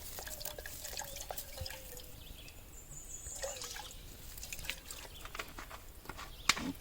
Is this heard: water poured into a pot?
yes